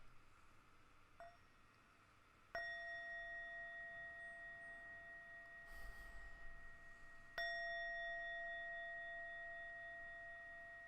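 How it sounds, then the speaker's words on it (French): Two clear metallic bell strikes, each ringing out with long sustained tones that slowly fade, rung to open a live broadcast; a faint lighter tap comes earlier and a soft rustle between the strikes, with no talking. "Je vais sonner à la cloche à 3 reprises et on va commencer"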